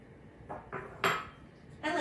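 Cookie dough with flour being mixed in a bowl for blueberry muffin cookies: four separate clinks and scrapes of a utensil against the bowl, spaced irregularly, fairly quiet and close, no talking.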